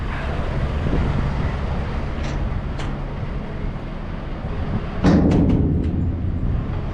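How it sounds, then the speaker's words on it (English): Wind picks up outdoors beside a low truck trailer in Norway, a steady broadband rush and rumble buffeting the microphone, with a few sharp clicks and a stronger gust near the end. "Oh, the wind picks up"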